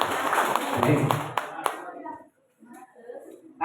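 A school workshop audience bursts into brief applause, a dense burst of clapping for about two seconds before it fades, followed by a short spoken word.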